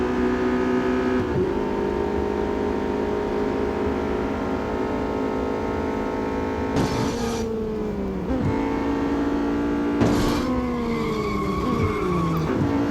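A Honda Civic Type-R racing in Real Racing 3, its engine droning steadily with tires skidding and squealing through corners, shifting pitch several times, loud and close.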